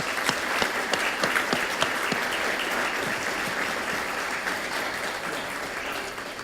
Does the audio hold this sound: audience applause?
yes